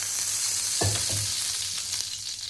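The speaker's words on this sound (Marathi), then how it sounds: "थोडंसं तूप टाकून घेणार आहे मी, तुपामध्ये बनवणार आहे घरच्या घरी तुपात." Ghee sizzles in a hot home kitchen pan before frying paneer chilli, a constant bright hiss with a couple of short clinks and spatters near the start and no voices.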